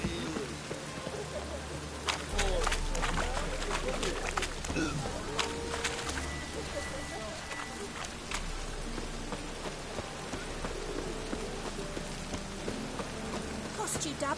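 Steady rain patters on a surface throughout in the video game The Witcher 3, fairly quiet, with a few brief voices and clatters mixed in.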